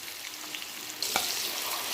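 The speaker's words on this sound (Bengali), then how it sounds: "কড়াতে তেল গরম করে পেঁয়াজগুলোকে দিয়ে দেবো। পেঁয়াজগুলো একটু ভাজা হয়ে এসছে।" Onions fry in hot oil in a kadai, a soft steady sizzle that swells louder partway through as the pan crackles up.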